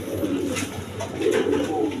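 A pair of red Danish pigeons coo softly and continuously up close, a low, throaty murmur with faint higher chirps in the background.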